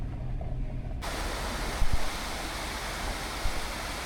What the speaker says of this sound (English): Here's another waterfall that's coming off the mountain, and it goes underneath the road that we're sitting on